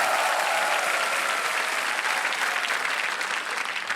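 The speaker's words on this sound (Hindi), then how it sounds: "हम तालियों के साथ आपका अभिनंदन करते हैं" Studio audience on the quiz show Kaun Banega Crorepati applauding, a loud, sustained wash of clapping that holds steady throughout and fades slightly at the end.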